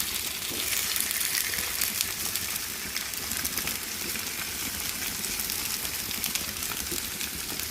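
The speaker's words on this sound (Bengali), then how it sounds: "এগুলো আমি সরিষার তেলে একটা একটা করে সব দিয়ে দিব পোড়া পোড়া করে ভাজবো" Vegetables frying in mustard oil until charred, for a Bengali bhorta, give a steady, dense sizzle that holds close and even for the whole stretch, with no one talking over it.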